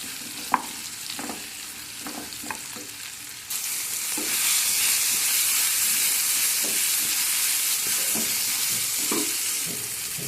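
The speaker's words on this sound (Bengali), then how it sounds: "তো সবটা আমি এখন একটু ভেজে নেব, যতক্ষণ না পর্যন্ত টমেটোটা গলে যাচ্ছে" Tomato, green chilli and chopped ginger frying in a pan, a steady sizzle that swells louder partway through, with scattered scraping stirs and utensil clicks close by; no one speaks.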